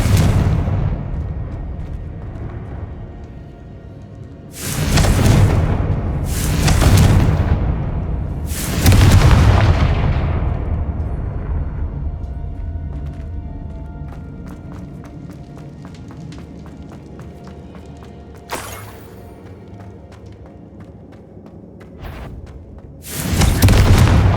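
Confringo blasting-curse explosions in the Hogwarts Legacy video game on PC, several loud booming blasts in a row with long decaying rumbles, then a later blast.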